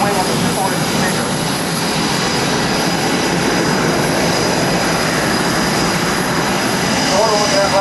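A Boeing F/A-18F Super Hornet, the two-seat F model, makes a flyby at the 2008 NAS Oceana airshow, producing a continuous loud jet roar that holds steady for the whole stretch.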